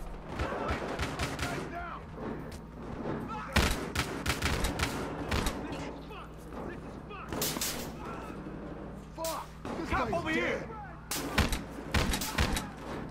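Bursts of gunfire from the video game Battlefield Hardline, sharp loud shots and rapid volleys scattered throughout, mixed with game effects and a player talking over them.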